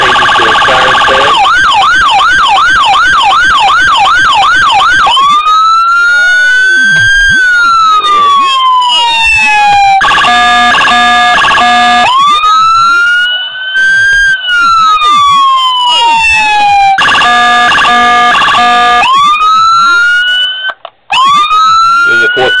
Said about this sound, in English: Change it to a siren sound.